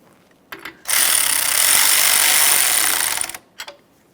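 Bolts on a radiator fan assembly of a 2009-2014 Nissan Maxima being snugged with a power tool: one sustained whirring burst of about two and a half seconds, close by, flanked by short clicks and taps.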